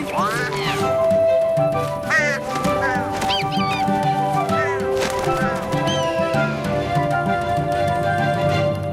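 Cartoon birds quack in an animated Jungle Book story, with repeated squawky calls over background music, and voices speak among them.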